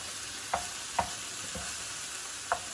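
Beef browns in a pan for stroganoff, a soft continuous sizzle broken by a few sharp taps of a utensil against the pan, faint and close, with no talk.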